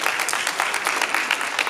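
Steady applause fills a banquet hall as the crowd claps continuously for a band banquet guest speaker, a dense, even patter with no voices over it.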